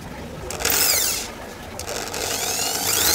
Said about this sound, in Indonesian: Saya pakai mata bor ukuran 6.